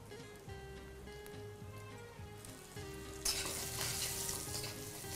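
Slit green chilies dropped into hot mustard oil with panch phoron crackle and sizzle softly, with small spits and pops building into a louder, brighter hiss partway through.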